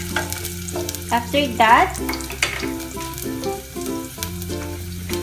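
Onion frying in a pan for oatmeal congee (lugaw), a steady sizzle with occasional stirring scrapes running throughout under a brief spoken phrase.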